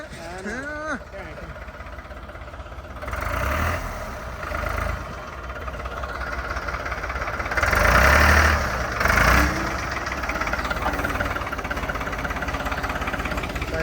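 A Farmtrac 45 tractor engine runs with a steady low diesel rumble that swells at moments, nearby, while people talk over it.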